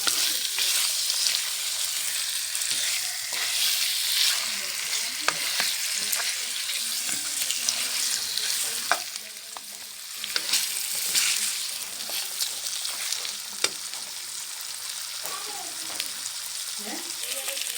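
Fish heads fry with garlic, ginger and onion in a pan, giving a continuous close sizzle with scattered crackles and stirring scrapes, holding steady with a brief dip midway.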